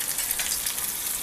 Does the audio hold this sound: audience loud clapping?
no